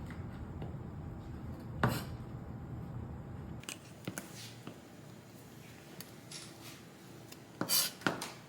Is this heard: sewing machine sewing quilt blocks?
no